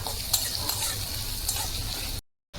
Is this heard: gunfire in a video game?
no